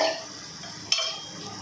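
Khichdi ingredients, including potato, are stirred in oil in a pan, a soft faint scraping and light sizzle punctuated by one sharp clink of spoon against pan midway.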